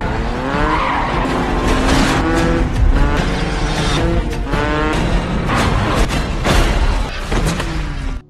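Car chase in a film ending with a crash into a police car: loud, continuous tire squeals and skidding with engine roar and repeated screeching bursts, dense and close throughout.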